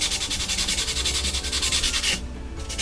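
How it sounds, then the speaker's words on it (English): Sanding a high-quality MDF board for a studio monitor speaker box, rapid rhythmic back-and-forth rasping strokes close up and loud, ending abruptly with a brief pause then resuming. "before putting the top segment, we are doing some sanding"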